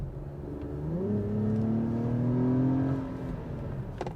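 A 2021 Acura TLX Type S turbocharged engine accelerates from inside the cabin, its drone rising steadily in pitch and swelling in loudness before easing off near the end.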